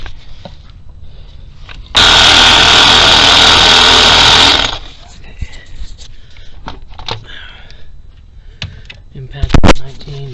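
A power wrench breaks loose a 19mm starter bolt on a Nissan Versa 1.8: one loud, steady buzzing burst of about three seconds, then quiet metallic clinks and tool handling close by.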